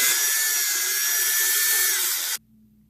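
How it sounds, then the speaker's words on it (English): A power driver whines steadily for about two seconds while backing the screws out of a spear gun, then stops abruptly, leaving only faint low noise. "I'm just going to take off these 4 bolts, or these 4 screws real fast"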